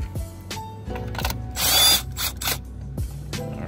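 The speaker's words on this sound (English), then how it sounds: "we're going to go ahead and loosen up the battery clamp." A ratchet wrench loosening a car battery clamp, several close, loud bursts of rapid clicking with short pauses between, plus brief metallic knocks from the tool.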